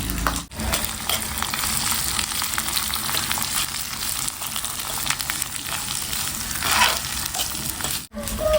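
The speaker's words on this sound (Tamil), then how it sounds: "சாம்பார் வெங்காயம் பெரிய வெங்காயங்க ரெண்டுமே போடுறோம்" Sambar onions and big onions fry steadily in a pan, a continuous close sizzle with faint stirring scrapes throughout, no voices.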